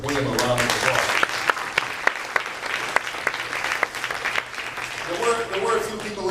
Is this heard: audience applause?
yes